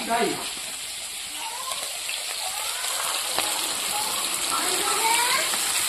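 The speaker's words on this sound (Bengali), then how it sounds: "এবার আমি সেদ্ধ করে রাখা ছোলাটা দিয়ে দেবো" Boiled, drained chickpeas tipped into a pan of frying potatoes give a steady, hissing sizzle that holds evenly throughout, with a faint voice talking underneath.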